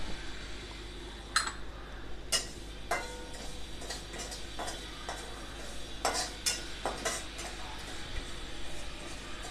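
Shahjeera and poppy seeds roasting in a little oil in a pan for a black masala blend, heard as soft scattered clinks and ticks of stirring over a steady low background hum.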